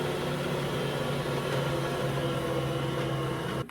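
A stand mixer kneads bread dough in a steady, even motor hum that holds without a break, then cuts off near the end.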